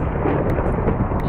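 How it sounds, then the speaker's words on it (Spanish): A Minecraft thunderstorm, a dense, loud, low rumbling roar of thunder and rain filling the whole short stretch with no break. "¿qué onda con esa tormenta?"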